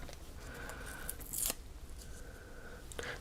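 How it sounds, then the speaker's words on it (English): Scissors snip through squares of craft foam, cutting them in half with a couple of sharp, crisp close-up cuts, each one a brief scraping crunch over a quiet room background with no talking. "I'm just going to cut these squares in half"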